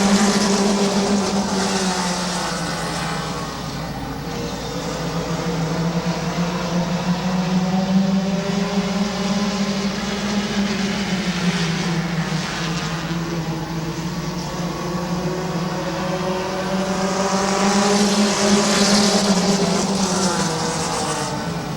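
A pack of stock cars races side by side at Midvale Speedway, engines droning loudly and steadily in a sustained roar that swells and recedes as the field circles the oval, with no talking.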